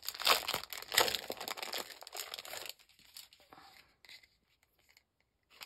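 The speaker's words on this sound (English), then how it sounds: "I don't think you guys want to watch me do this and listen to this unwrapping each one." Plastic wrapping is peeled and crinkled off a BLEDS product, making loud, close rustling and crackling for about two and a half seconds before it fades to a few faint rustles and then near silence.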